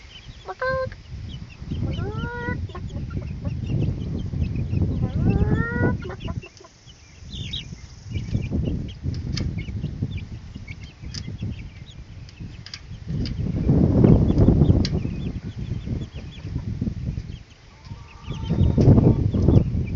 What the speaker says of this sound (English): The other chickens are talking to him.